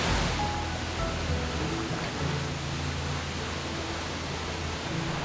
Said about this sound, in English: in a canyon little bowl here where the waterfall is coming down